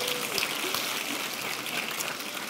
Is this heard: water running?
no